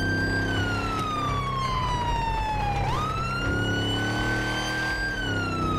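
A loud wailing police siren in the video game GTA 5, sweeping down and back up in pitch, continuous and close over a low engine rumble.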